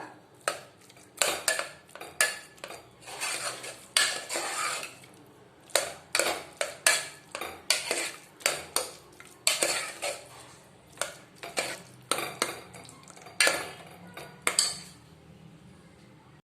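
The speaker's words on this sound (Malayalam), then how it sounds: "ഒരു തവി വെച്ച് നമുക്ക് നല്ലതായിട്ടൊന്ന് സ്മാഷ് ചെയ്ത് കൊടുക്കാം, ഒന്ന് ഉടച്ചു കൊടുക്കാം നല്ലതായിട്ട്" Cooked vegetables for pav bhaji being mashed in a pan with a ladle, giving repeated metallic scraping and clanking strokes in an irregular rhythm, close and fairly loud, with no talking.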